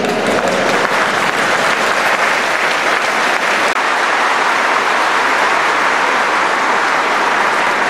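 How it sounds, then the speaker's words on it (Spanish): Loud, sustained applause from delegates at a peasant communities and rondas congress, a dense roar of many hands clapping close and unbroken for the whole stretch. "Aplausos."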